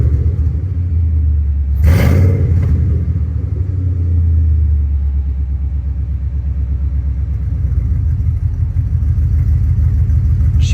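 A car engine fitted with exhaust collectors idles under light throttle, giving a steady, close, deep rumble with a brief sharper rev near the start, then settling back into an even throb.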